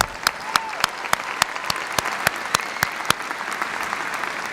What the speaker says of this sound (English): You can applaud, that's great.